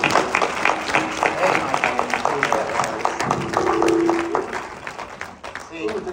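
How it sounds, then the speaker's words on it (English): An audience at an Elvis Week 2023 event applauds, a steady wash of clapping that runs under continuous talk and fades near the end. "Because he's hearing applause."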